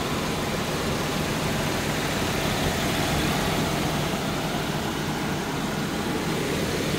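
A 2005 Toyota Land Cruiser Prado with a 2700cc engine idles with the hood open, giving a steady, even drone heard up close and unbroken for several seconds with no one talking.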